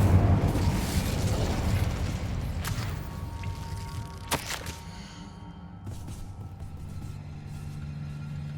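Hogwarts Legacy's Incendio fire spell bursts with a roaring, crackling blast up front, followed by a few sharp pops and a fading, rumbling tail over low ambience.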